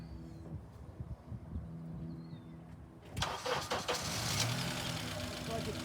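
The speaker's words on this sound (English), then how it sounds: "go over and see if the car starts" A car engine cranks over and catches, then settles into a rough, steady running noise, loud and close after a quieter lead-in with some voices in the background.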